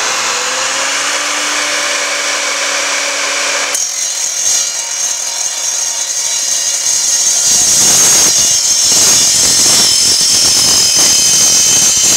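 An Evolution R255SMS saw runs with a loud, steady high whine that shifts tone as the blade bites into the workpiece, the cut turning harsher and more broadband partway through, close and continuous with no talk.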